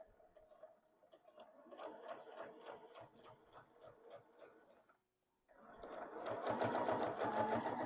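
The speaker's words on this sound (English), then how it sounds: "you're sewing along, you are going to stop and pivot and go off the corner" Stitching quilt binding on a quilted table topper, a sewing machine runs in quick rhythmic bursts, halts briefly at the corner to pivot, then resumes louder and steadier.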